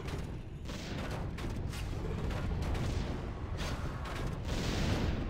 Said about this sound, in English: He's firing rocket launchers!